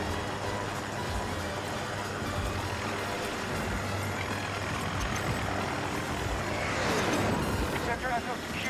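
A helicopter in the video game Battlefield 2042 thrums with a steady rotor and engine drone that swells near the end, under game effects and a voice talking.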